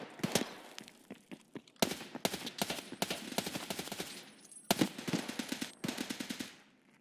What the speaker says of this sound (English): Yeah, it's him shooting.